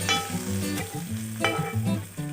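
Garlic sizzles in hot oil as a tadka for dhaba-style chana dal, a dense steady frying hiss with a few crackles and no voices.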